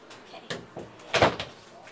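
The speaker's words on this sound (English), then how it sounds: "Maybe you can go close the other door." A door pulled shut indoors, a sharp thump that stands out loud and close, with a few softer knocks and handling sounds around it and faint voices before and after.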